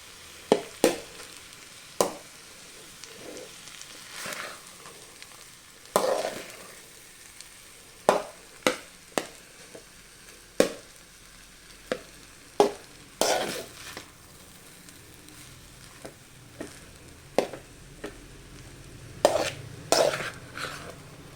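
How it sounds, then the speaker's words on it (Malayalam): Rice being stirred into tomato rice in a pan, a series of scraping, clacking spoon strokes against the pan at an irregular rhythm, close and fairly soft over a light sizzle, with no talking. "ചോറൊക്കെ ഇട്ട് കൊടുത്ത് നമുക്കിത് ഇത് നന്നായിട്ടൊന്ന് മിക്സ് ചെയ്യാം"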